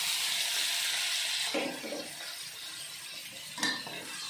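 Pork with holy basil stir-frying in a pan gives a steady broadband sizzle, with a couple of brief scraping stirs and utensil knocks against the pan.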